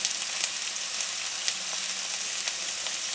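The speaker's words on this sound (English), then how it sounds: "I have 2 tablespoons of oil. In this I'm going to add 1 chopped onion." Chopped onion and ginger fry in two tablespoons of oil, giving a steady, close hiss of sizzling with faint crackles throughout, no talking.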